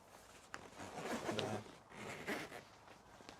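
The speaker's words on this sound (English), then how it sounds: "we can pull the zips down on either end" A quiet zipper on a tent panel is drawn in a few short rasping pulls, close and soft, with faint rustling between strokes.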